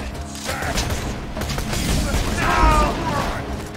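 A grenade goes off in the Borderlands 2 video game: a loud booming blast with clattering debris and mechanical noise amid game action, with a brief voice over it.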